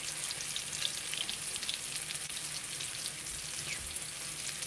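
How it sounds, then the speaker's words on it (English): Breaded chicken of the woods mushroom nuggets deep frying in plenty of oil, a constant bright crackling sizzle heard close and steady with no voices. "You want a really nice, good golden brown fry on these nuggets."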